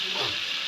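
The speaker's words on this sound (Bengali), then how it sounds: "মাংস ম্যারিনেট করে রেখেছিলাম আমরা, দিয়ে দিলাম" Marinated meat dropped into hot oil, giving a steady close sizzle with a broad hissing texture and no talking.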